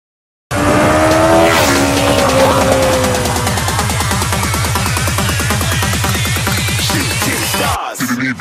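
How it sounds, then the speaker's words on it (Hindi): A red motorcycle pulls up close by, its engine roaring loudly and continuously with a shifting pitch for several seconds before cutting off abruptly. No one speaks over it. "सो गाइस एक बाइक ये आ गई रेड कलर की।"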